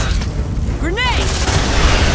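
A grenade goes off in the sci-fi game Aliens: Dark Descent, a dull boom buried in a constant roar of loud battle noise, with a brief rising whistle-like tone just before it.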